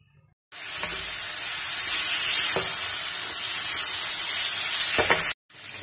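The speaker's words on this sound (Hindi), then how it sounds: "फ्राई पैन में तकरीबन 2 टेबल स्पून ऑयल डालेंगे और मैरिनेट की हुई चिकन इसमें शामिल करेंगे और इसको फ्राई कर लेंगे" Marinated chicken pieces sizzle steadily in about two tablespoons of hot oil in a frying pan, a loud continuous hiss broken by a few faint stirring scrapes before cutting off abruptly.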